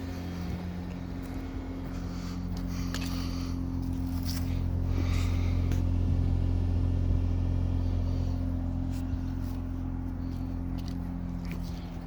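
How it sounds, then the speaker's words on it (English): A 210-horsepower V6 car engine running, a quiet, steady low hum with a smooth even tone and faint rattles on top. "Listen to the V6. This is a V6 that makes 210 horsepower."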